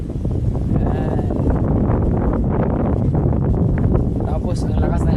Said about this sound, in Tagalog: Tapos ang lakas ng hangin dito guys.